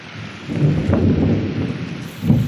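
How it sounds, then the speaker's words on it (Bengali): Heavy rain pours down over an open field while deep thunder rumbles close and loud through the whole short stretch. "দেখো কী জোরে বৃষ্টি হচ্ছে"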